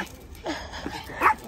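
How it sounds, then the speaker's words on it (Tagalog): Dogs at an outdoor dog run in a Tachikawa park on a hot day, giving short yips and whimpering barks in brief bursts over a busy background of ambient noise. "Ayun, ang dami aso."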